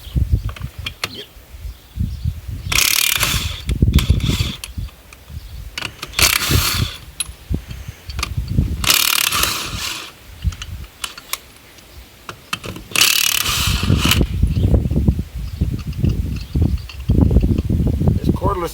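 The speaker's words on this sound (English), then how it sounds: "Cordless impact might be the best money I've ever spent." Cordless impact wrench hammering on a 1-inch fastener during repairs on a Gehl 4400 skid loader, several loud rattling bursts of a few seconds each, close by, with quieter clinks and handling noise between them.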